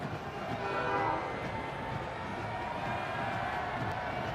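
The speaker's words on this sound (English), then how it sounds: "the fans love it when the train pulls by. There are tracks just outside the venue here" A train rolls along tracks just outside a soccer stadium during the USL Championship final, a steady rumble with a faint horn under a constant crowd murmur.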